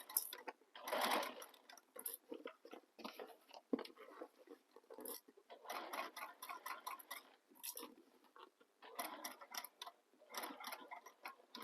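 A sewing machine stitches through bulky, interfaced bag fabric for a Chanel-inspired handbag, running in short, rapid bursts separated by pauses as the fabric is turned, with a fairly quiet mechanical whir.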